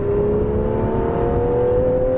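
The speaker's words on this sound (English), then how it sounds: "you get the exhaust note, and this car comes to life" Aston Martin Vanquish S, a 2017 luxury car in sport mode, pulling under acceleration with a steady, loud engine and exhaust note whose pitch climbs slowly and evenly, heard up close without any voices.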